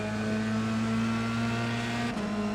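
Race cars at Monza in a sim racing game accelerate off the start line, a sustained, loud layered engine drone with steady harmonic tones and a brief gear-change dip near the end.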